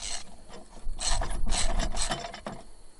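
A wrench ratchets while tightening a nut on the mower deck pulley of a Craftsman LT1000 lawn mower, giving quick, close metallic clicks and rasping strokes in short bursts.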